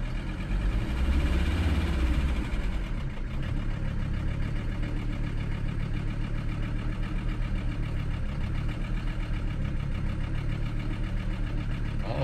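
A Mercedes 300SD diesel engine idles steadily and close, a low rough rumble with a slightly uneven beat, revving a little higher at first before settling down, idling slightly low.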